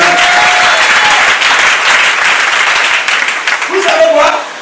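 A church congregation breaks into sustained, loud applause, dense clapping filling the space from start to finish and thinning slightly near the end, with a few voices calling out over it.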